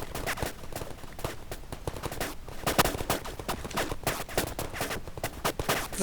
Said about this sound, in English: The turrets fire mercilessly, continuously.